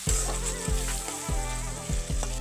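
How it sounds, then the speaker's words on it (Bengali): Chopped onions and three or four green chillies with salt fry in oil in a pan for a fish curry, a steady close sizzle with several stirring strokes scraping through it. "এখন পেঁয়াজটাকে ভালো করে ভেজে নেব।"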